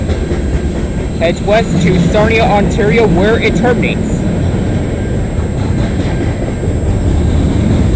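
A freight train rumbles past nearby on the Dundas Subdivision at Egerton Street, London, Ontario, with a loud, steady roar, while someone talks over the noise for the first few seconds.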